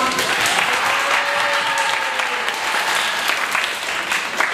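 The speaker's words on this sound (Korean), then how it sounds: "박수 한번 부탁드립니다." A school audience applauds at a middle school book-talk event with loud, dense, sustained clapping that fills the room, and a few voices are mixed faintly into it.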